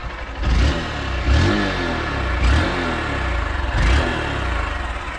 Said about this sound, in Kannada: ಸೌಂಡ್ ಭಾಳ ಸ್ಮೂತ್ ಐತಿ, ಎಂಜಿನ್ ಇದ್ದ ಸೌಂಡ್ ಕೇರಿ